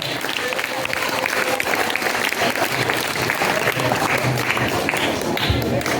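An audience at a children's literary gathering claps steadily for about six seconds, a dense, even wash of applause filling the hall.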